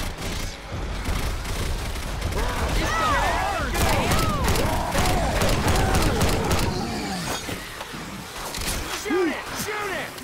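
Rapid gunfire crackles through a zombie horde fight in Left 4 Dead 2 at a Shanty Town barricade, dense repeated shots layered with shouting voices and chaotic game noise throughout.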